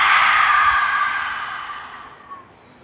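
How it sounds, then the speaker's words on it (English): A single deep breath let out through the mouth during yoga practice, a long breathy sigh that starts loud and slowly fades to quiet over nearly three seconds. "breathing in and then letting it out through the mouth"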